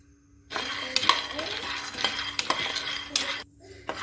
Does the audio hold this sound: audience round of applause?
no